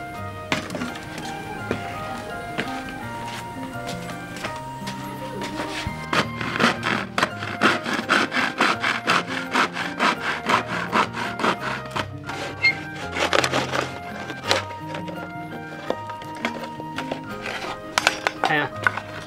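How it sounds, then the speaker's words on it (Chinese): A hand saw cuts through a dried winter melon gourd, a rapid run of rhythmic rasping strokes that grows denser in the middle, close up, with someone talking at times. "现在找个锯子，然后把它切两半。"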